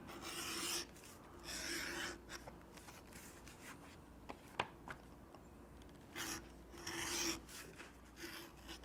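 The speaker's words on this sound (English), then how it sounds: "we will also edge bevel the grain side and the flesh side" Edge beveler scraping along leather edges, grain and flesh sides, while making a shot shell bag: repeated close, soft rasping strokes in several bursts, quiet, with no talking.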